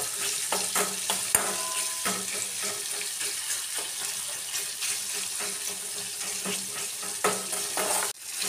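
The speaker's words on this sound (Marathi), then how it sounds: "कढीपत्त्याची पानं टाकायची आणि चांगलं परतून घ्यायचं।" Curry leaves and tomato sizzle in hot oil in a pan, a continuous close frying hiss broken by irregular stirring scrapes and clicks, with no voices.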